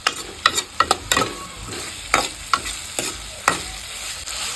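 Onions fry and hiss in a pan on a gas stove, stirred with repeated loud, close scraping strokes in an irregular rhythm over a steady sizzle.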